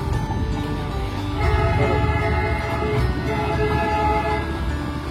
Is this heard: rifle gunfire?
no